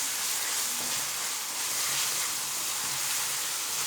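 Potato bhujia cooks in a pan with ginger, garlic and chopped green chillies, giving a steady, soft broadband sizzle and hiss that stays even and close, with no talking.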